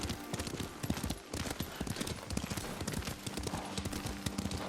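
Horse hooves galloping in Ghost of Tsushima, a rapid, loud and close clip-clop rhythm running continuously under a busy mix of game sounds.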